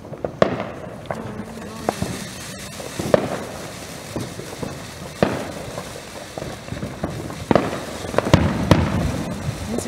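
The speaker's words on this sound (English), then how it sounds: "These are some good fireworks." Fireworks at an Independence Day celebration bang and crackle repeatedly at irregular intervals, some sharp and close, with scattered voices in between.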